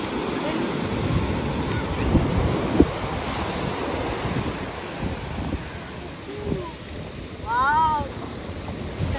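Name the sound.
beach waves in Sri Lanka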